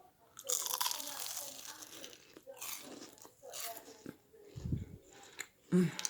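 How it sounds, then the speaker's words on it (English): Crunchy bites into crispy fried tempeh tempura dipped in sweet soy sauce, several close crackling crunches with chewing between them, amid talk. "give it a corner bite, be careful."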